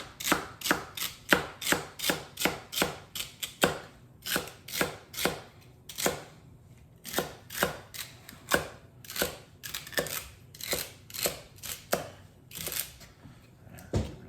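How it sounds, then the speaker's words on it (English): A knife chops rhythmically through crisp celery stalks on a cutting board, quick sharp thuds in bursts with brief pauses, close and fairly loud. "I'll show you the bowl here as soon as I get done chopping this"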